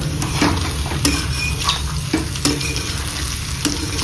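Pork with sesame seeds and onion is stir-fried in a pan, a steady loud sizzle with repeated scraping strokes of a spatula against the metal.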